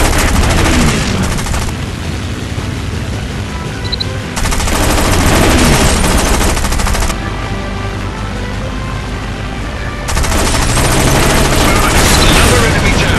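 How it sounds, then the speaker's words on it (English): Loud machine gun bursts in the War Wings aerial combat game, dense rapid fire in long stretches with short pauses between volleys, mixed with game effects and a voice speaking over it. "Taking heavy fire."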